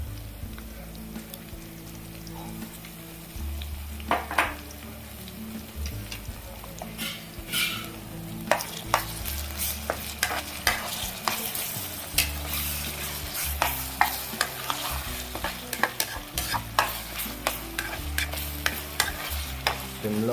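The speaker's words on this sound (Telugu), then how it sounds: "2 టేబుల్ స్పూన్ల అల్లం వెల్లుల్లి పేస్ట్ వేసుకొని దాంట్లో పచ్చివాసన పోయేంత వరకు మనం కొద్దిగా కలుపుకుంటూ ఉందాం" Two tablespoons of ginger garlic paste fry in a pan over a medium flame, a steady sizzle broken by repeated scraping strokes of a spoon stirring, close and clear with no voices.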